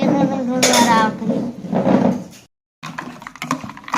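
Buttermilk with chilli and salt is stirred in a pot, producing close metallic clinks and scraping with a brief silent gap midway, while a voice talks faintly underneath.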